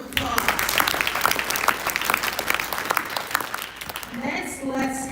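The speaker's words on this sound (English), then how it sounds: "Let's give them a round of applause." An audience in a school hall at an academic awards night applauds students, a steady wash of many hands clapping that fades near the end as a voice begins.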